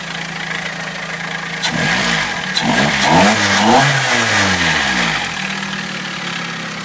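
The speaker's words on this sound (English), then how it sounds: "Definitely do get a lot more intake noise." A Nissan GA16DE car engine fitted with an SR20DE throttle body idles, then revs up sharply a few times with a throaty intake roar before settling back to a steady idle.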